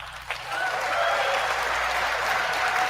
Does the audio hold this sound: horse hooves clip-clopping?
no